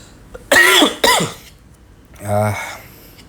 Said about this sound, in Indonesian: Aduh, saya batuk.